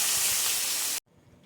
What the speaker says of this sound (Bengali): ফোড়নটা ভাজা হয়ে গেলে দিয়ে দেবো আলুগুলো